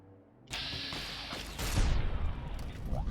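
Gunfire in the video game Fallout: New Vegas: a sustained burst of loud, dense shooting and explosive noise in a game setting, continuing steadily for about two and a half seconds without talk.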